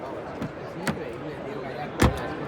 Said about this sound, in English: Good opening and closing sound, doors open nice and wide.